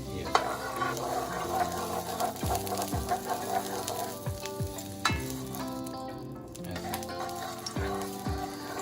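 An egg paratha frying in a pan inside an iron ring, a continuous close sizzle with occasional metallic clinks and taps from the ring and utensil, and no speech.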